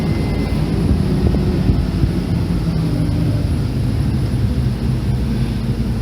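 Low, steady engine rumble of a New Holland CR920 combine harvester throttling down during harvest, heard from close by as a continuous broadband drone with no talk.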